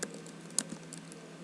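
Someone types a short node version command on a computer keyboard: a quick run of faint, soft key clicks with one slightly sharper tap, quiet and close with no talking.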